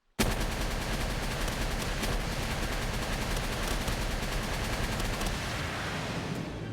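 A continuous rapid barrage of missile fire in the video game Palworld bursts in abruptly and holds loud and dense, with a steady rattling rhythm and no voices.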